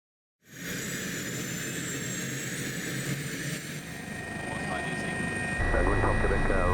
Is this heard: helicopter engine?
yes